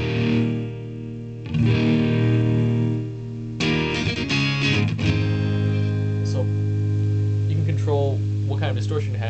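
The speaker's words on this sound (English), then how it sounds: "Distortion to have just with your guitar, which is pretty nice." Electric guitar played through a Crate Palomino V series amp with distortion, loud sustained overdriven chords and single notes ringing out, with a short pause before the strumming resumes alone.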